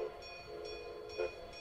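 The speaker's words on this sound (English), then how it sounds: "a single huge train, 14 long cars headed up by a massive scarlet metal steam engine" A faint game sound effect of a steam train with a massive scarlet steam engine pulling fourteen long cars in The Sims 3. It gives a steady low rumble with soft rhythmic chuffs and a thin sustained whistle-like tone.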